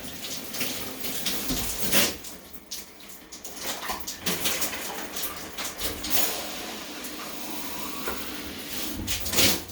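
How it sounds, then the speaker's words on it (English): Water splashed from a plastic cup hits a shower ceiling, splashing and sloshing in repeated bursts, close by and echoing slightly in the enclosed shower, with no talking. "I'm just going to kind of splash the ceiling with it"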